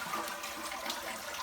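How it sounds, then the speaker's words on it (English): Water rushes steadily as a toilet flushes with its tank lid off, giving a broad, even hiss and gurgle that stays at one level throughout, with no talking. "watch what happens when I flush the toilet"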